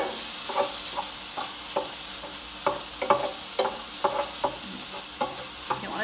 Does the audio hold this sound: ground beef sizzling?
yes